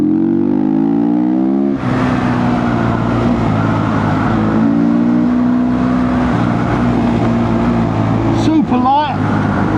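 A small SWM RS300R motorcycle on the move, its engine droning loud and close with rising and falling pitch as it revs and shifts, wind rush over it and a voice talking briefly.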